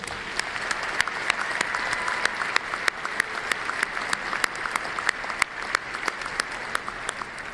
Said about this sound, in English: please join me in a round of applause for all of our dedicated faculty